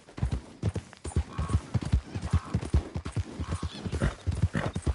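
A horse in Red Dead Redemption 2 gallops with a fast, rhythmic drumming of hooves, loud and close, its steady beat continuing through the whole stretch.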